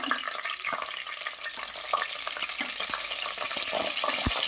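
Green chillies and curry leaves frying in hot oil with cinnamon and fennel in a pot for mutton biryani, a soft continuous sizzle with scattered light crackles and clinks of stirring.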